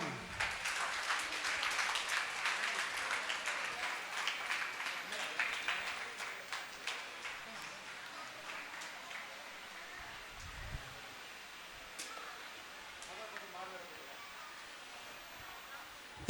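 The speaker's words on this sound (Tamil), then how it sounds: "கரகோஷம்" Applause from an audience at a Tamil festival stage as guests are called up, a dense clatter of claps that is strongest early and gradually thins and fades over about sixteen seconds.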